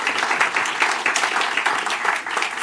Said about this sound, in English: Can we give the London Stock Exchange a warm hand of applause?